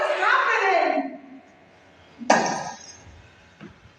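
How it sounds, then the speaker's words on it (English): Car headlights are smashed in a stage production of Night of the Living Dead: a loud glass shattering fades out, then a sharp second crash and crackle, with a faint later tinkle. "They're smashing all my headlights"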